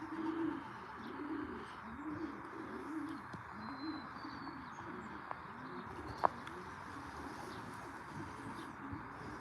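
Pigeons coo in a low, repeated rhythmic burble, a steady series of soft throaty calls close by, with faint chirps and a brief sharp knock partway through.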